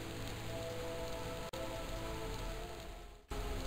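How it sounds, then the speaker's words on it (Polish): Heavy rain pours steadily in the Aristejo Legend video game, a dense, continuous hiss of downpour with no talking. "Leje jak z cebra."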